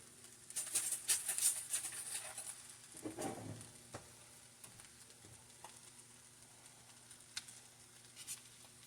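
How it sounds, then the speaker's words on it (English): Chicken fried rice sizzles in a pan as it is stir fried, a quiet, steady crackle with a few brief stirring scrapes and clinks, close by and without talk. "I'm just going to let this stir fry for a couple of minutes"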